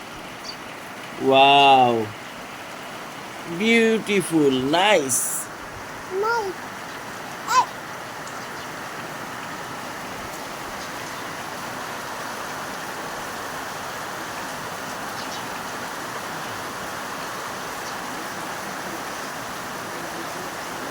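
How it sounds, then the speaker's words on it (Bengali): Rain falls outside in a steady, even hiss that runs the whole length of the stretch, while a child and adult exclaim briefly near the start over the wash. "বৃষ্টি আইছে নি? দেখি বৃষ্টি।"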